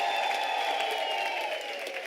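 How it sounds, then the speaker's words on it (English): A graduation ceremony audience at a South African university claps in a steady, continuous round of applause, a dense even wash of many hands with no voices standing out. "Can I request we give them a round of applause to celebrate their accomplishment?"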